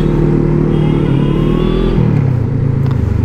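A motorcycle engine revs loud and close, a steady throaty drone that climbs and then drops in pitch partway through, with no voices over it.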